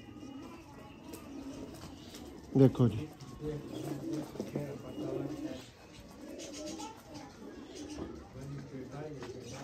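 Soft, repeated cooing of breeder pigeons in a loft, the father of a Punjab champion pigeon among them. The low rolling coos are near but quiet, and someone speaks briefly over them.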